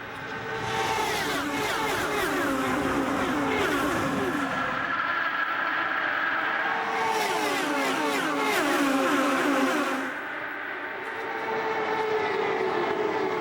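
IndyCar race car engines roar and rise in pitch as a pack accelerates past at a restart at Kansas Speedway, sweeping by in loud overlapping waves before fading and building again.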